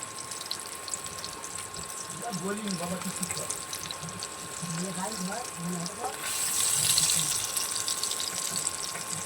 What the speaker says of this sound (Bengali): দেখুন আলুটা একটু লাল লাল করে ভেজে নিয়েছি